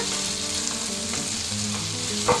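Chicken curry base with turmeric fries in a pan while being stirred, giving a loud, close sizzle with scraping stir strokes and a couple of brief clatters near the end; no one speaks.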